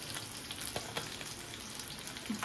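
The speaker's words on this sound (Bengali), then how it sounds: "মাছগুলো ভেজে নিচ্ছি" Bata fish frying in a pan, a soft continuous sizzle with faint crackles, fairly quiet and without talk.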